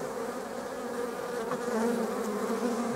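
Honey bees buzz steadily around a hive being checked, where a wingless old queen heads a nucleus colony; the dense insect drone stays close and continuous, swelling slightly toward the end, with no voices.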